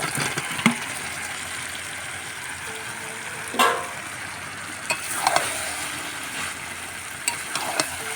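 Marinated chicken, seasoned with garam masala, fries in a pan with a steady sizzle and occasional louder bursts as the pieces are stirred and turned.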